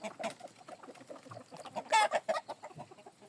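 Fighting chickens raised beside a river on a farm cluck and call near a tamarind tree. The clucks are close, uneven and overlapping, with a louder burst of calls midway.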